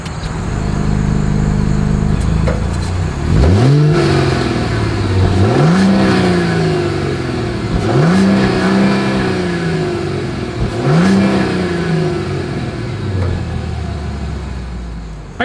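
A 2025 Mercedes-Benz GLS 450 SUV exhaust heard up close as the engine is blipped four times in a row, each sharp rev rising then falling back to a smooth idle, loud and with no talking.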